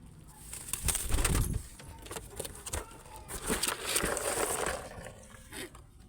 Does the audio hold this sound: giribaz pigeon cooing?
yes